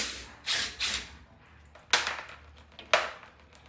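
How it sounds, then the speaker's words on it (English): Hand ratchet clicking in short, separate bursts while loosening the brake caliper bolts on a Nissan 350Z, five quick strokes with pauses between them, close and clear in a quiet garage. "then we're gonna take off the caliper bolts"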